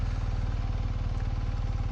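A motorcycle engine idles close by with a steady, rapid thumping pulse, loud and continuous.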